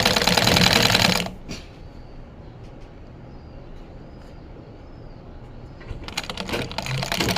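A sewing machine stitches pleats into a blouse sleeve cuff, running in a loud, steady burst at the start, then pausing to quiet room tone before starting up again near the end.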